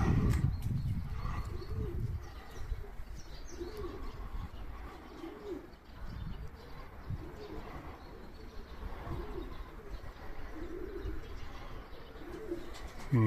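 Pigeons coo repeatedly in a steady, rhythmic series over a constant outdoor rumble, with faint chirps mixed in and no clear wingbeats standing out.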